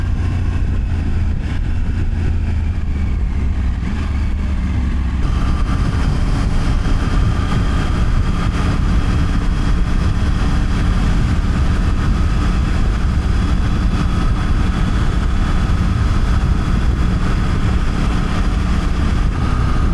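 Triumph Tiger motorcycle being ridden briskly over rough roads, its engine droning steadily and loudly throughout with wind and road rumble, no voices.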